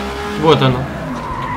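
A car skids on spilled oil in the racing game FlatOut: Ultimate Carnage, a short burst of tire noise and engine sound rising briefly under a voice.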